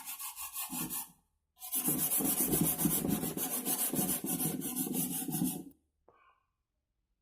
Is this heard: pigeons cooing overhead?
no